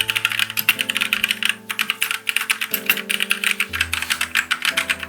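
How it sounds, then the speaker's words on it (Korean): Steady, rapid clacking of a MAXTILL TRON G400K mechanical keyboard being typed on after cleaning, close and crisp, with a brief pause about midway and no voices. "기분 탓인지 이전보다 키보드 타건 소리가 좋은 것 같네요"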